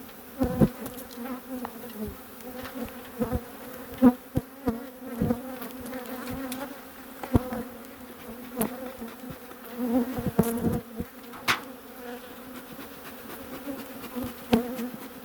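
Honeybees buzzing steadily in an open hive during an April check of walkaway splits with an established open brood frame, a dense close drone with sharp passing buzzes of individual bees and handling taps, no talk.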